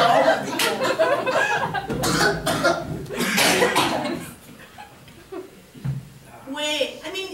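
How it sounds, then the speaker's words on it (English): Several people cough repeatedly in close, rough bursts, mixed with chuckles and talking, loud and near, with a few sharp coughs trailing off toward the end. "you guys are starting to cough really bad here"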